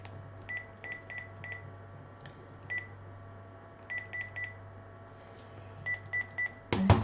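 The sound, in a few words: telephone dialing tones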